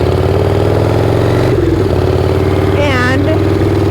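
A motorcycle engine drones steadily and loud through a ride, with a brief dip in the rumble and a rising whine near the end.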